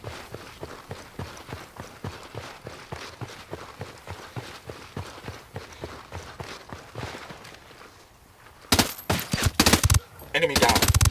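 Rapid gunfire in the tactical shooter Ghost Recon Wildlands, a long run of steady repeated shots followed by louder, harsher bursts near the end, with brief game voices mixed in.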